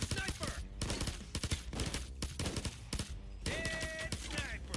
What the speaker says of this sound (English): It's a sniper!